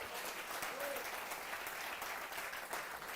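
A church congregation clapping during a sermon, a dense, even wash of applause that sounds somewhat distant and fairly quiet, with no talk.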